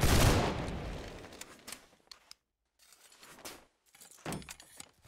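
Gunfire in the musket-era multiplayer game Holdfast: Nations at War, a loud burst opening and trailing into scattered cracks and rumble, then a brief silence before further sharp reports and a final heavy shot.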